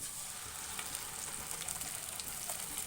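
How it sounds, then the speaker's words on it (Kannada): Freshly ground masala frying in a pan for chicken sambar gives a steady, close, dense sizzle that stays even throughout with no voices. "ಇವಾಗ ನಾನು ಮಸಾಲೆ ಸೇರಿಸ್ಕೊತೀನಿ ರುಬ್ಬಿರೋಂಥ ಮಸಾಲೆ ಇದು"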